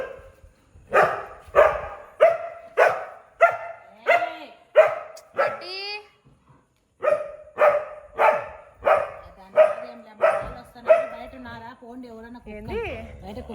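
Dogs bark outside in two long runs of loud, evenly spaced barks, about a dozen in each, with a short gap between them and a few yips and whimpers near the end.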